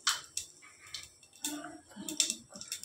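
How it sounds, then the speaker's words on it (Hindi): Cumin seeds crackle in hot oil in a pressure cooker, giving faint, irregular pops and ticks scattered sparsely through a quiet kitchen background. "जीरा चटकने लगा है"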